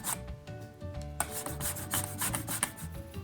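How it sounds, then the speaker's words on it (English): A lemon rubbed against a zester, giving soft close rasping strokes in a quick uneven rhythm, some louder scrapes standing out, with no talk. "Time for our lemon. The zest."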